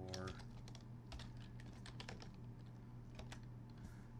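Rapid keystrokes on a computer keyboard as a terminal command is typed on a Raspberry Pi setup, a steady run of close, crisp clicks over a low background hum.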